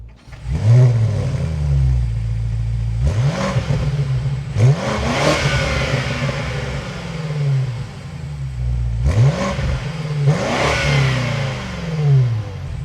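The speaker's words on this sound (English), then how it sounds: "now inside the 2026 BMW M5, keep my foot on the brake, we can go ahead and fire it up" A 2026 BMW M5 fires up from inside the cabin, the engine catching with a loud roar, then climbing through several sharp revs that fall back to a rumbling idle between blips.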